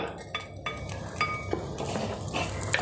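A spoon stirring and scraping coriander and Kashmiri chili powder around a hot pan over the flame, a run of irregular metallic clinks and scrapes at moderate volume with no talk.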